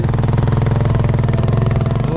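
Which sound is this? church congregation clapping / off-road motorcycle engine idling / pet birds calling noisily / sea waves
off-road motorcycle engine idling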